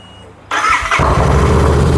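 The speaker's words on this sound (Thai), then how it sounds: "เดี๋ยวมาฟังเสียงเครื่องยนต์นะครับท่านผู้ชม" A 2019 Royal Enfield Interceptor 650 motorcycle engine cranks and catches, then settles into a loud, rumbling idle close by.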